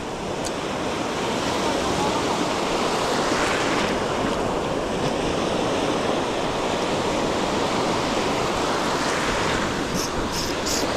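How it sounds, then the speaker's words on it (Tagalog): Choppy sea churning around an angler's boat, with a dense continuous wash of waves and heavy wind buffeting the microphone, loud and close throughout. "Medyo maalon eh."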